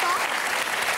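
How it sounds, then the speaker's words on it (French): TV studio audience applause on a French entertainment show, a short dense burst of clapping close and loud throughout, with a brief voice tone near the start. "déjà, on a applaudi Philippe d'être venu"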